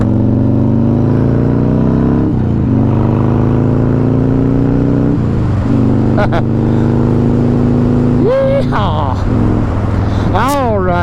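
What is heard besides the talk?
riding a 1999 Dyna Super Glide motorcycle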